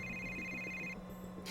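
A phone ringing in a Yakuza game, a faint steady electronic ring tone that sounds briefly and then stops, with low background music underneath.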